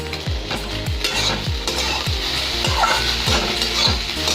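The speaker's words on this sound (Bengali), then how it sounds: "এখানে ওই ডিম আর আলু দিয়ে আর ম্যাগি দিয়ে চাউ করে নিয়ে চাউ করছি।" Maggi noodles chow with egg and potato stir-fried in a pan, rhythmic scraping strokes of a spatula repeating about every half second over a steady close sizzle.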